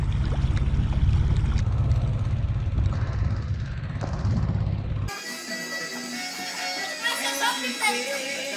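A boat's new main engine drones low and steady for about five seconds, loud and close, before giving way abruptly to other sounds.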